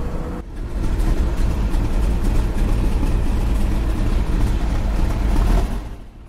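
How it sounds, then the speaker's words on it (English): A tank engine, normally built to move 60 tons, drives a roughly 5-ton tank car: a loud, steady, deep rumble with heavy low-end drone that holds evenly throughout before easing slightly at the end. "Normally this engine would be moving 60 tons, now it's just moving 5 tons"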